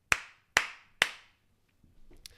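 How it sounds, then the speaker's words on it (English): Three sharp hand claps in quick, even succession, loud and close, each ringing out briefly, followed by a soft murmur of movement. "That's 3 claps and we're live."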